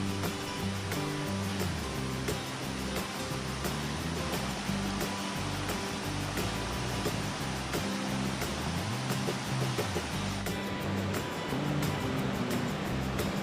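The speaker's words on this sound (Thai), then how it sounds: "สำหรับลำธารแห่งนี้นะครับ ก็เป็นลำธารก่อนที่จะถึงจุดชมน้ำตกสลัดใดแล้วครับ" Stream water rushes steadily over rocks just below the Sarika (Salatdai) waterfall viewpoint in Nakhon Nayok, Thailand, a continuous broad close-up roar with no break.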